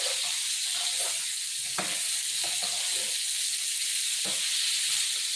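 Shrimp frying in oil and butter, a loud, dense, steady sizzle with occasional spatula scrapes and taps as the pieces are stirred, close up with no voices.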